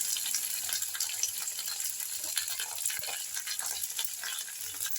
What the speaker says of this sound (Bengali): অর্ধেকটা ঢেঁড়স ছাড়ার পর আবার একটু নাড়িয়ে নিয়ে